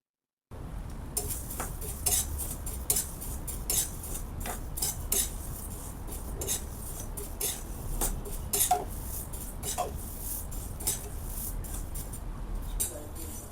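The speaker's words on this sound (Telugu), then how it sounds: "ఇవి దోరగా వేగే వరకు మనం ఇలా కలుపుతూ ఉండాలి" Coriander seeds dry-roasting in a pan, stirred continuously so they rattle and click with sharp, irregular scrapes against the metal over a faint background hiss, close by and fairly quiet.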